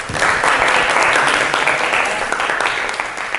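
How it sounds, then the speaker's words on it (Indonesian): A classroom of students bursts into applause for passing their test, a dense, steady burst of clapping that stays loud throughout and tapers a little at the close. "Tepuk tangan."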